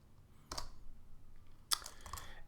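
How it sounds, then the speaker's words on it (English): A few light, crisp clicks from a Mac computer keyboard as a terminal command is typed, two short bursts of keystrokes close by in a quiet room. "So the first thing I'm going to need to do is make one. So I'm going to type sudo make dir"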